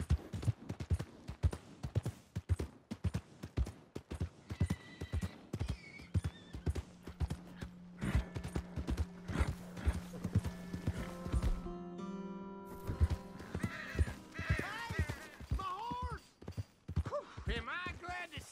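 Horse hooves clip-clop in Red Dead Redemption 2, a steady run of hoof beats with a neigh and mechanical clatter, mixed with game sounds and voices talking.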